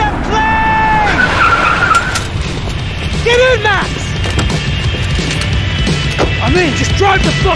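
Tires squeal loudly over a roaring engine as a car skids through a chase in the video game Max Payne 3, with repeated screeching bursts and a constant rumble, while voices shout over the din.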